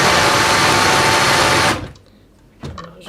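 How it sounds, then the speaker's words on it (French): A food processor whirs steadily at close range, loud and dense as it grinds almonds for a sweet almond filling, then cuts off abruptly, leaving a brief quiet followed by a small clatter. "il faut bien mixer pour ne pas trouver des morceaux d'amande"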